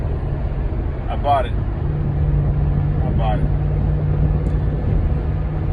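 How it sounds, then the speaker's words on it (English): A Mercedes-Benz SL55 AMG being driven on the road produces a steady low engine and road drone heard from inside the car, with a couple of brief higher warbling sounds on top. "So I'm driving home now, back to Cincinnati, Ohio."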